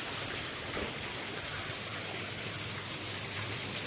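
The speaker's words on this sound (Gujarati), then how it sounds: "આ અમારી ઘરની મિની નદી" Rainwater runs like a small stream beside a house during heavy monsoon rain, a steady broadband rush of flowing water that holds even throughout with no talking.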